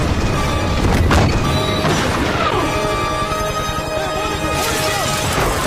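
A cannon fires at a helicopter in an action-movie scene, a heavy booming blast early on within a dense, loud soundtrack of rumble and effects that continues throughout.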